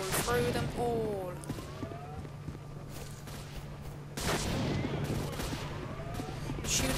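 Gunfire in the video game S.T.A.L.K.E.R. during a run past enemies: scattered shots and bursts, loud at the start and again near the end, with voices shouting in the game.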